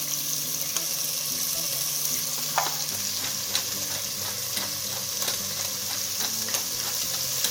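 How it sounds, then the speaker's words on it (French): Pork pieces browning in a hot pan for Réunion-style cari porc massalé, a loud continuous sizzle with repeated crackling spits and a faint watery undertone, no talking. "on laisse cuire jusqu'à ce que ce soit bien doré de chaque côté"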